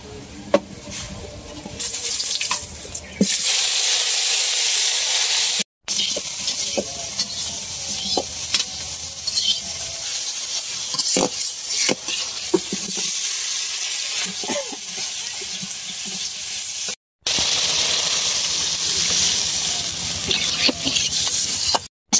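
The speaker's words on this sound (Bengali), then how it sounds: "বাজে নিতেছি ফুলকপি আলু দিয়ে।" Cauliflower and potatoes frying in a pan give a loud, steady sizzle with a bright hiss, broken by scraping stirs and a few brief cutoffs, running close and continuous.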